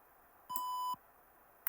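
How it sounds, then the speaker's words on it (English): An Arduino pet feeder's buzzer gives one clear electronic beep of about half a second, steady in pitch and fairly loud, followed by quiet and a short click near the end. "so buzzer will beep."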